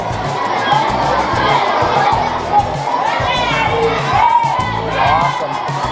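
A large outdoor crowd with children shouting and chattering, a dense continuous roar of many voices with occasional excited cheers rising above the din.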